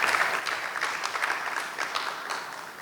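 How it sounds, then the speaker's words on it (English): A room of attendees at a banking roadshow in Ghana claps, with distinct hand claps standing out within a steady wave of applause that tapers slightly at the end. "there should be a round of applause for all of us"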